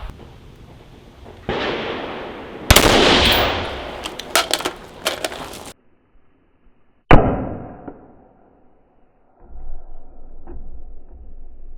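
A gunshot fired at a Lancer L5 rifle magazine during a torture test, a sharp loud outdoor report with a short ringing decay, followed by a second sudden impact and some handling noise.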